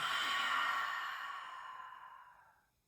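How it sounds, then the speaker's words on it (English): A loud, breathy exhale during yoga breathing in a yin class, one long sigh fading out over about three seconds. "take a long, slow inhale and a loud, audible exhale"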